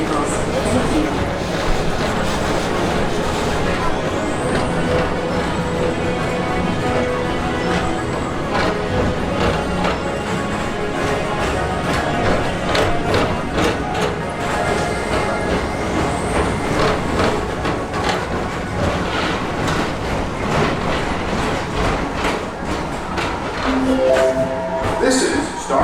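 The Tomorrowland Transit Authority PeopleMover ride vehicle at Magic Kingdom rolls along at night with a continuous mechanical hum and rumble, while onboard narration and announcements carry over it throughout.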